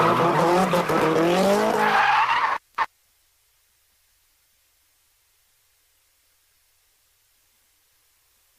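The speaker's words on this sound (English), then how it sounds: "A competition in which cars are deliberately oversteered to slide and spin through a series of sharp turns." Cars in a drifting competition slide through sharp turns with loud, continuous tire skidding and engine noise for about two and a half seconds, then cut abruptly to silence.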